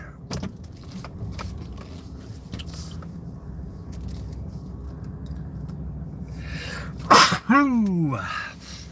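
Someone sneezes loudly and abruptly near the end, over a low vehicle-interior hum with scattered clicks and rustles.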